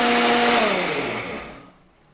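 Electric mixer grinder running on roasted masala with raw cane sugar: a loud, steady whirring motor that slows and winds down, fading out after about a second and a half, with no voices.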